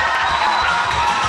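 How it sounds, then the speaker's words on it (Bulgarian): An audience at a juggling show in Hadji Dimovo bursts into loud, dense applause and cheering, a steady crowd roar filling the whole short moment. "И вашите аплодисменти за младен концерт"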